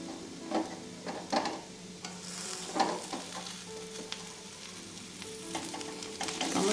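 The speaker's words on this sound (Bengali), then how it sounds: "টমেটোগুলো দেওয়ার পর আমি একটু নাড়িয়ে নেব ডালটাকে" Lentil dal with salt, turmeric and chopped tomatoes sizzling and frying in a pan while a spoon stirs it, with irregular scraping and clinking strokes over a steady hiss, close and fairly quiet.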